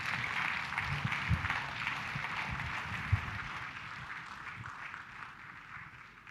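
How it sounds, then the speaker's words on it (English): Audience applause at a leadership and empowerment summit, a steady, even wash of many hands clapping throughout, moderately distant, with a faint low murmur underneath. "please join me in giving a round of applause to His Excellency for a fantastic conversation"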